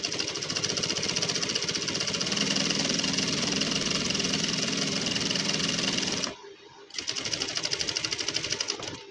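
An electric sewing machine stitching a gents suit runs in a fast, steady mechanical whir, pauses briefly for a moment, then resumes close and loud.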